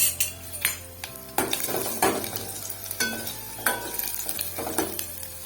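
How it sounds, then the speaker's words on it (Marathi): Onion frying in a tempering of oil with curry leaves, turmeric, salt and Malvani masala, sizzling loudly up close while a utensil scrapes and stirs the pan in repeated bursts, with no talking. "आता आपण फोडणीला घालून घेऊया."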